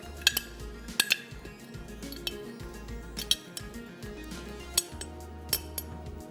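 A metal spoon clinks sharply against a bowl several times while salt is mixed into masala, the bright strikes irregular and close, with soft scraping between them.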